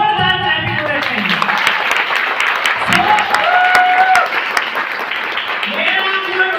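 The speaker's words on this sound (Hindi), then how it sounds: "मैं चाहूंगा उस गुरु के लिए तहे दिल से एक बार जोरदार ताली हो चाहिए" An audience at a stage event breaks into applause, dense clapping sustained throughout, with a voice speaking and calling out over the crowd at times.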